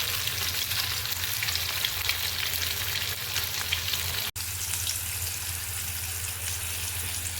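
Fish frying in hot oil in a pan, a continuous close sizzle with a steady low hum underneath, briefly cut by a short dropout, with no talking.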